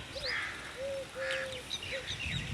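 Several crows perched in front call in a few separate caws, fairly clear over quiet open farmland air where wheat has ripened.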